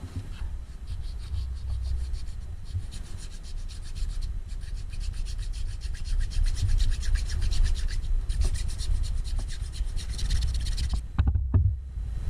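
Metal file scraping back and forth along the edge of katana fittings, steady close rasping strokes with table rattle, ending in a few knocks.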